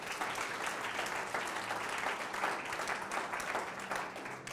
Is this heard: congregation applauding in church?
yes